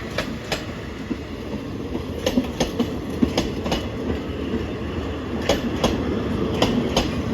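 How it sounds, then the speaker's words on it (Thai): A Thai express train rolls steadily past the Ramathibodi Hospital railway stop with a rhythmic clickety-clack of wheels over rail joints, loud and close, with no voices. "ก็วิ่งผ่านป้ายหยุดรถไฟโรงพยาบาลนะรามาธิบดี นะฮะ"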